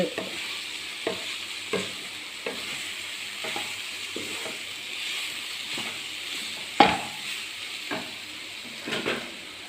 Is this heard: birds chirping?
no